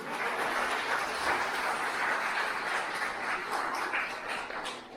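Sustained applause from an audience in a hall, a dense steady wash of many hands clapping at even loudness throughout, with no talk over it.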